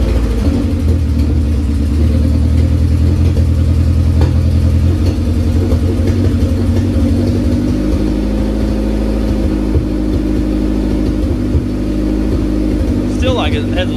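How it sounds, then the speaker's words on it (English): A Honda CR-V RD2 engine runs loud and rough through an open exhaust on its first start after repair, with a steady low drone and a slight misfire throughout. People talk over it. "Still gonna sound loud because of the open exhaust."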